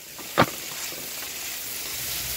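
Ground turkey and bell peppers fry in a pan with a soft, steady sizzle, and one sharp scrape of stirring near the start, heard close with no talking.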